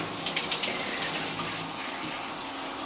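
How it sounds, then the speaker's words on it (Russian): Steady rushing of running water, like a tap filling a tub, continuous and fairly close with no voices, as a small dog is bathed in an apartment. "мы моем Зиту."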